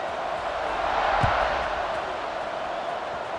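Stadium crowd in the College Football 26 video game during a Texas State versus Southern Miss matchup, a steady broad roar holding at an even level with one low thump partway through.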